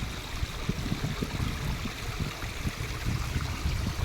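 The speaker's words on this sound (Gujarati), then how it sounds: "પાણીનો જો ખડખડ અવાજ ચાલુ છે" A shallow stream gurgling and trickling steadily over stones at an outdoor picnic spot, close and continuous with no voices.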